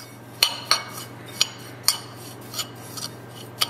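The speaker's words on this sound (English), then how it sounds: "we're going to add an Italian seasoning and garlic powder. And then just stir that up" Italian seasoning and garlic powder being stirred in a bowl, a spoon tapping and clinking against the side in about eight sharp, irregular strikes over a low steady hum, with no talking.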